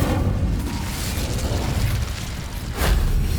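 A fire spell cast in the Hogwarts Legacy video game gives a loud, sustained whooshing burst that fills the clip and swells again in a final flare near the end, with no talk.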